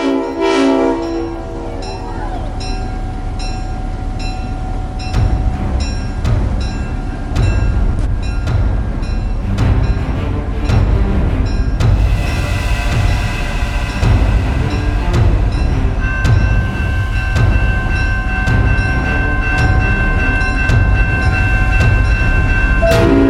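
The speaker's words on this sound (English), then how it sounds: "Train ride that hopes to thrill you a little and chill you a little" Passenger train ride with rolling clickety-clack and steady rumble, joined by a loud, sustained train horn blast midway that holds to the end.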